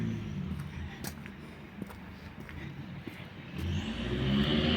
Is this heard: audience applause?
no